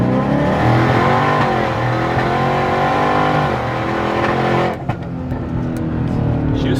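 A twin-turbo Ford Mustang launches hard on a street with launch control, its engine roaring loudly and steadily at full throttle before the note drops suddenly as it pulls away.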